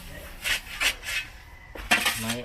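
Soil for seedlings gets stirred and mixed in a container, producing a few scraping, rubbing strokes with light clinks, close by and intermittent.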